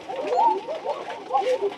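Pigeons coo repeatedly in soft, rolling phrases during their morning feeding in Bagmara, Rajshahi, close and clear, with faint rustling in the background.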